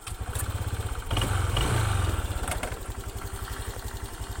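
A Honda Vario 150 scooter engine runs steadily nearby with a pulsing idle-like thrum, swelling briefly louder around mid-clip as if revved, then settling back to a regular throb, with no talking.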